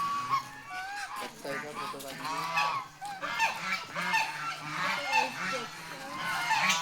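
Many ducks at a duck-rearing centre honk and quack together in a steady, overlapping chorus, close and fairly loud throughout.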